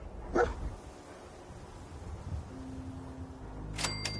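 A dog in the Fallout 4 video game gives a short bark near the start, then a couple of quick yips near the end over a quiet game ambience with a low hum.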